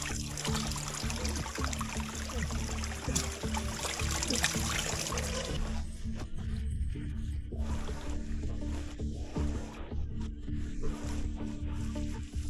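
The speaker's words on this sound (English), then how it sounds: "Then he hears it, the unmistakable sound of flowing water." Water trickles and gurgles continuously, fairly close, with a brighter splashing wash at first that settles into a softer, steady flow.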